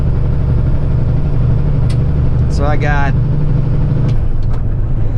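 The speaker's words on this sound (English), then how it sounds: "Just wanted to show you guys how the truck pulls with this." A heavy semi truck hauling an oversize load climbs a big hill, its deep, steady engine drone filling the cab continuously while someone speaks briefly over it.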